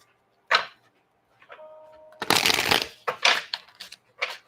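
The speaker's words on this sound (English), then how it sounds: "I'm having issues shuffling." Tarot cards being shuffled by hand: a short riffle, then a longer burst of papery rustling and a few quick flicks and taps, close and alone with no talk.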